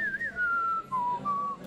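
Whistled melody, heard as a clear solo whistle sliding through a few sustained, gently falling notes.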